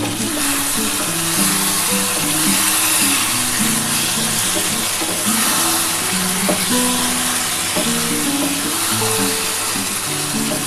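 Mutton frying in a wok for kosha, a constant loud sizzle with occasional stirring scrapes throughout, and no voices.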